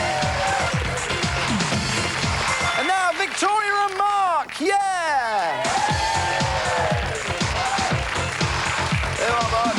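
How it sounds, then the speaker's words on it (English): A TV dating show's studio audience claps in a sustained round of applause while a presenter's voice rises over it, the clapping carrying on beneath the talk. "Give him a nice round of applause"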